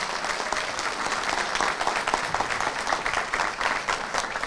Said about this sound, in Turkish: Onlara da bir alkış.